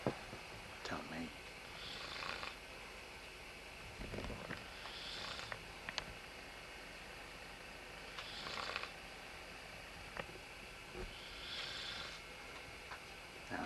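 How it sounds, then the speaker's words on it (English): A man snoring while asleep, four slow, soft, raspy breaths spaced a few seconds apart, faint and close, with light clicks and rustles between. "Now, is he snoring?"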